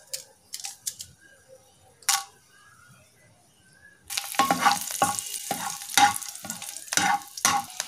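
Cashew nuts fry and sizzle in a pan, with a steady crackle and repeated scraping stir strokes that start halfway through, after a few scattered clinks and knocks.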